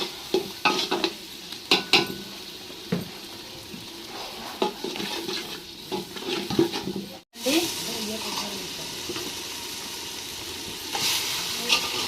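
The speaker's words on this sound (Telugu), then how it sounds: "ఇప్పుడు టమాటా పేస్ట్ అయితే వేసుకుందాం తగినంత అయితే వేసి ఆయిల్లో బాగా వేసుకుందాం మొత్తం మగ్గేలాగా" Tomato paste sizzles in hot oil with ginger-garlic paste while a spoon scrapes and stirs the pan, giving steady close frying hiss broken by irregular clinks, with a brief pause midway.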